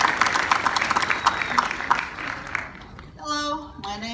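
An audience at a convention panel claps loudly for about three seconds, the crisp broadband applause fading out before a person starts speaking near the end.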